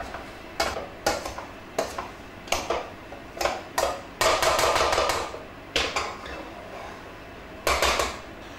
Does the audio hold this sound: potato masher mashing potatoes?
yes